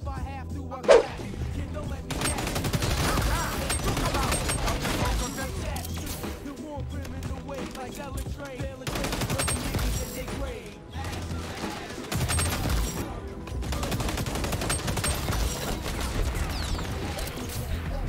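Rapid gunfire from the first-person shooter XDefiant rattles on almost without pause, with bursts of shots, impacts and crashes layered under continuous game noise.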